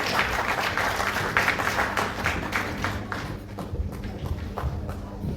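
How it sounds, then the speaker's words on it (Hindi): At an award ceremony, an audience claps to welcome an honoree onto the stage, the applause strongest at first with some distinct claps, then thinning into lighter scattered clapping over a low rumble of the hall. "जोरदार तालियां बजाकर नितेश कुमार जी का स्वागत करें"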